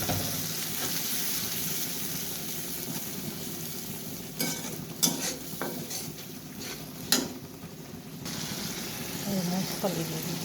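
Spices frying and sizzling in a pan after golden-browned onions, with a steady hiss and a few sharp stirring clinks and scrapes partway through.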